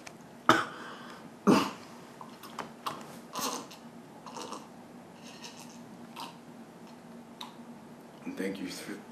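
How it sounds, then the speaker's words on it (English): Someone clears their throat and coughs in a couple of rough bursts, followed by quieter shuffling and clicking sounds in a room. "Let me clear my throat."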